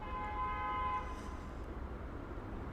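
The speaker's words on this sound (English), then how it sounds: "a train rolling into the station" Toronto transit train rolling into a station, a horn tone sounding for about a second over a low rumbling approach that continues steadily.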